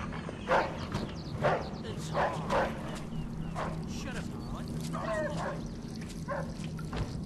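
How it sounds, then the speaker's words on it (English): Several short dog barks come at irregular intervals in a Mafia II game scene, faint beneath a steady low hum and other background game sound. "Dog could be a problem."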